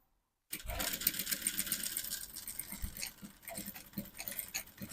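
A sewing machine starts abruptly and runs in a fast, continuous mechanical chatter while stitching a seam on palazzo pants, close and steady with slight speed changes.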